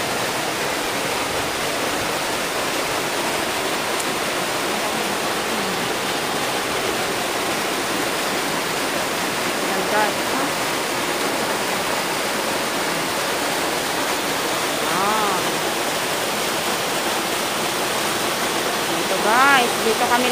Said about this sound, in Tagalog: Welcome to Naruron Falls.